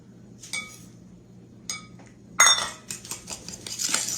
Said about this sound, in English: Stir that around real good.